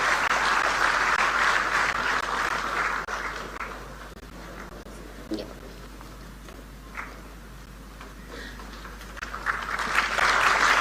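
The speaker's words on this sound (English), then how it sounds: "A huge round of applause." Sustained crowd applause at the inauguration of a quantum processor facility in Amaravati, loud at the start, easing through the middle, then swelling again toward the end, with no talk over it.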